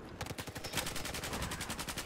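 Rapid automatic gunfire in the shooter game Battlefield 4, played on PC, with dense repeated bursts of shots rattling continuously and loudly throughout.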